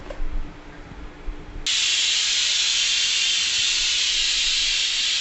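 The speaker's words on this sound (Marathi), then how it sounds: "कुकरला झाकण लावून शिट्ट्या काढून घेऊयात" After a quiet moment, a pressure cooker of mutton keema suddenly whistles, steam bursting out in a loud, steady hiss that continues without a break.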